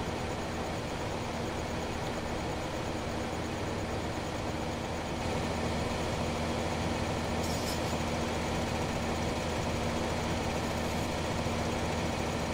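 Harvester auger unloading grain in Farming Simulator 2015, a steady, unbroken mechanical drone with engine rumble and whirring that holds at an even moderate level throughout.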